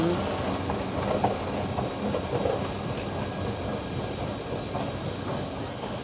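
A double-decker electric train runs steadily on rails underground with a continuous rumble and faint rhythmic clatter, close by, no voices.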